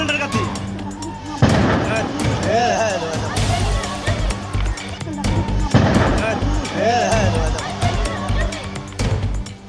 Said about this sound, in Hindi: नोनिया पट्टी मोहल्ले में रह रहकर धमाके की आवाज गूंज रही है।